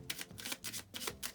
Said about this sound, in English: today we have a deck of Maverick playing cards that can be shuffled